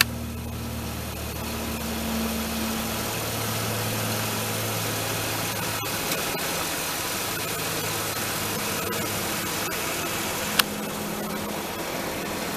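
A Ford Explorer engine idling steadily at a lowered idle, a continuous low rumble with a faint hum, holding even throughout with one brief click near the end.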